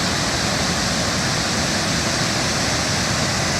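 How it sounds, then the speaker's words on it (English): Ban Gioc Waterfalls roar as a dense, constant rush of falling water, loud and close, with no voices. "So this is a bigger waterfall."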